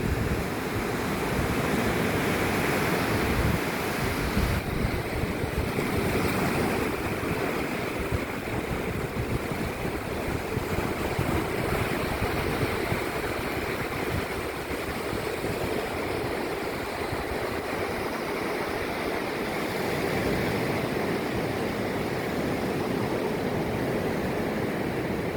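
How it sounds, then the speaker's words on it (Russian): Baltic Sea waves at Narva-Jõesuu, Estonia, wash steadily ashore as a broad continuous roar, mixed with gusting wind buffeting the microphone, with no voices. "Балтийское море сегодня."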